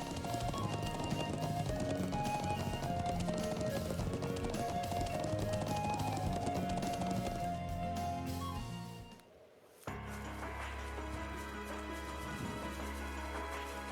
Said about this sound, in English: I am so glad we have a horse.